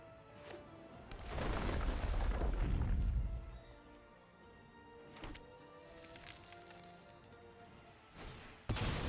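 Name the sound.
explosion in Magic the Gathering video game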